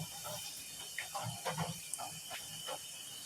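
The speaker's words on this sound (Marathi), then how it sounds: "चांगले याला उकळ फुटली पाहिजे त्याप्रमाणे ही फुटलेली आहे" Water boiling in a pot, two small cups heated to a full boil before dried butterfly pea flowers go in; a soft steady hiss with scattered bubbling pops, near and fairly quiet.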